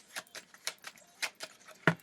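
Tarot cards being shuffled by hand: a series of soft, quick riffling and tapping bursts, close and quiet, ending with a sharper snap.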